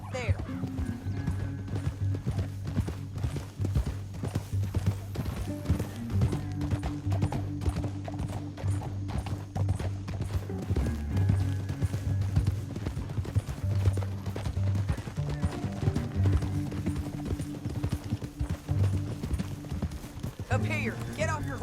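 Steady hoofbeats clip-clop along under a thick bed of music in the video game Red Dead Redemption 2, with a horse's whinny breaking through at moments.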